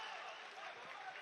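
A crowd at an MMA fight cheers and applauds, a faint, broad, steady roar of many voices and clapping under a commentator's talk.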